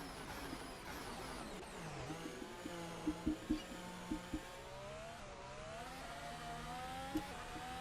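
A Ferrari Formula 1 car engine in the racing game F1 22 at Hockenheim drones steadily with a high, even whine that climbs gradually in pitch as it builds speed down a straight, broken by a few short clicks.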